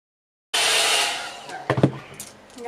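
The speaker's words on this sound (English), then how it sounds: "this one like doesn't blow as much out, and I feel like it's drying my hair much faster" A hair brush dryer switching on and blowing air steadily while drying hair, loud and close, with brief brushing rustles partway through.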